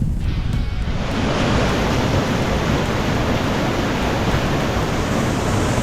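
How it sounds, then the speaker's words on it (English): A small waterfall on a cold Andes hiking trail in Ecuador rushes in a constant broadband roar, loud and close, with no voices. "find this little waterfall"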